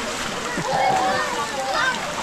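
Water splashes and sloshes in a swimming pool, with irregular close splatters as a voice and other voices call out over the water.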